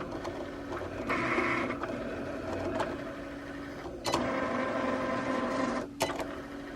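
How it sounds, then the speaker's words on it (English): A Cricut cutting machine cutting out decals runs with a steady mechanical whir and hum, and its carriage jolts in brief louder bursts as it moves. "connect it to the machine, and then this thing will start cutting"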